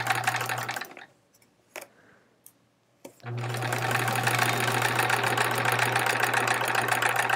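A sewing machine stitches a quilt seam in steady, close bursts of whirring motor sound, stopping for a short quiet gap before running again continuously.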